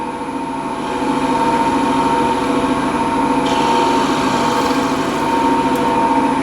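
A wood lathe turning a ladle blank hums steadily, its motor whine rising slightly in pitch and loudness as it speeds up, a continuous close mechanical drone with no voices.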